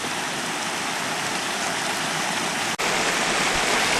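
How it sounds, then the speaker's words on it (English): A creek waterfall pours in a steady, loud broadband rush of falling water close by, unbroken apart from a momentary dip, with no voices over it. "See the waterfall here"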